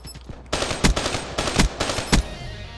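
Gunfire in a Black Ops III multiplayer match: several loud, sharp shots and short automatic bursts crack close by over a steady game background, with no talking.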